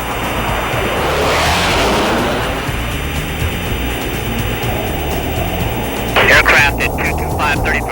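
Continuous loud jet roar of an FA-18D fighter configured for night attack, swelling as it passes overhead, with a sharper burst near the end, during a Summer Thunder military air demonstration.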